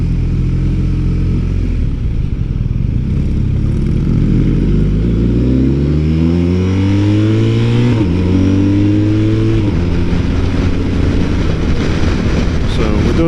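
BMW motorcycle, likely one of the M1000XR, M1000R, R1250RT or R18 Bagger at an Austin, Texas demo day, revving up through rising gear sweeps, loud and close, a steady engine roar with repeated pitch climbs and shifts.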